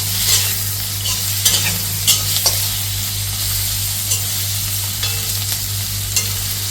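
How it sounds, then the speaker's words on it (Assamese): Pork frying in oil in a pan, a steady close hiss of sizzling with scattered sharp pops and clicks as it is stirred. "এনেকৈ অকণমান সময় ফ্ৰাই কৰোঁ"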